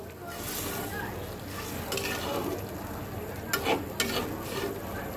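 A simmering small-fish curry with winter vegetables is stirred in a pot after fresh coriander leaves go in, giving a soft bubbling sizzle with a couple of brief utensil knocks against the pot.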